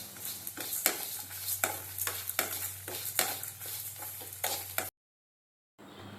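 Urad dal, dried chilies, cumin and grated coconut dry-roasting in a pan give off a dry rattling, scraping rustle as a spoon stirs them in quick repeated strokes, close by, before a sudden cut to near silence.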